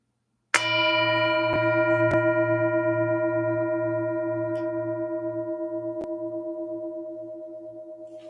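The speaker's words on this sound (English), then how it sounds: "the bell" A single bell struck once at a Sunday mindfulness service, its clear tone ringing out loud and then slowly fading with a steady shimmering pulse over several seconds, no voices present.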